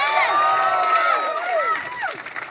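A live audience in Dublin answers a crowd question with cheering and whooping, many voices shouting and rising over scattered clapping, fading toward the end.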